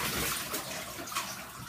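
Water poured over a dog's body during a bath, a steady close splashing and running flow with no talk.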